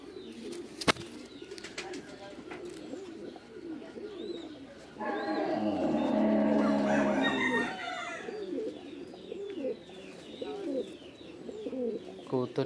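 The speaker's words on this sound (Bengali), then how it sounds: "আপনাদের কবুতরগুলো দেখাই" Pigeons coo and flutter nearby, their soft repeated calls swelling into a louder, busier burst of cooing midway, with faint talk underneath.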